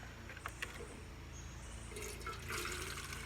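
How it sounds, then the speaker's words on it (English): Water pours from a small watering can into a potted pepper plant being transplanted for overwintering, a steady close splashing and trickling that swells louder toward the end, with no speech. "we're going to water it with my little trusty watering can"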